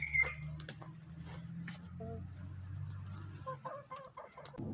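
Several chickens cluck softly and intermittently nearby, with faint rustling in the background and no talking.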